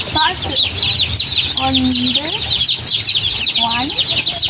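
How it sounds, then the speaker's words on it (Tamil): Chicks cheep in high, rapid, overlapping peeps as they are released into a cage, with a few clucks from a hen underneath. "நாங்கள் எங்களுடைய கோழி குஞ்சை கொண்டு வந்து விட போகிறோமே"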